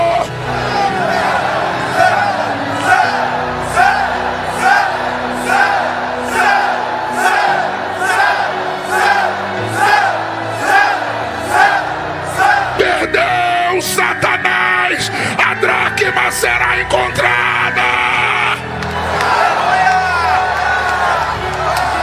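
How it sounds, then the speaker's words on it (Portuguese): A large arena crowd at a church gathering chants a rhythmic two-beat shout over and over, loud and steady, then breaks into looser yelling and cheering toward the end. "Eu quero ouvir esse ginásio dizendo: santo, santo."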